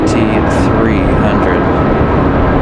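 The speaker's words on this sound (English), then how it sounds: "We've got a JetBlue A220 headed up the hill now." Taking off at Raleigh-Durham International on a windy day, a JetBlue Airbus A220-300 jet makes a loud, dense rushing roar that stays constant throughout, with gusty wind noise mixed in.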